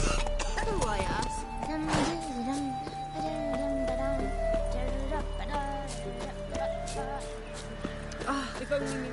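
Roach the horse gallops in The Witcher, with quick hoofbeats and a whinny near the start, while voices talk over it and music plays softly underneath.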